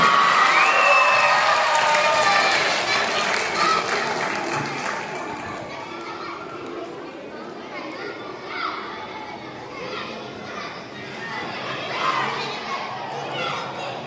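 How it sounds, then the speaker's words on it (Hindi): A school crowd at a taluka-level quiz competition in Bhadgaon claps and cheers for the children, loud and dense at first, then thinning into a softer murmur of voices and scattered clapping. "एक बार जोरदार तालियां बजाएंगे इनके लिए।"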